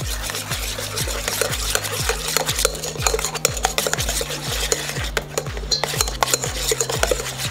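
Melted butter being stirred into hollandaise sauce: a rapid, regular scraping of a whisk or spoon against a bowl, close and steady throughout.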